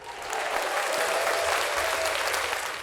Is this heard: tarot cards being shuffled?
no